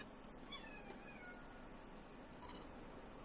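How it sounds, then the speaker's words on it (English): Two house cats yowl while mating, giving a few drawn-out, rising meows. The calls sound faint and distant, set against a low, steady room hiss. "Every time I try to record, my cats decide that they want to get it on in the middle of my video."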